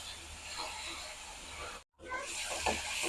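Green chillies and chopped shallots sizzle and hiss in a pan with a little salt, a steady close frying noise that cuts out briefly and resumes.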